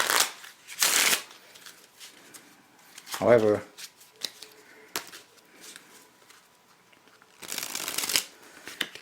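Bursts of Bicycle Persian Empire playing cards riffling and shuffling come close up at the start and end, with a brief spoken word and light handling noises between.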